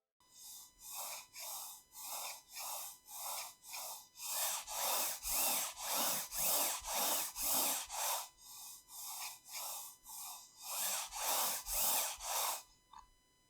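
A Hitscan Hyperlight computer mouse slides back and forth on a mousepad, producing rhythmic, evenly spaced swishes of friction about twice per second. The strokes are close and fairly quiet, alone with no talking.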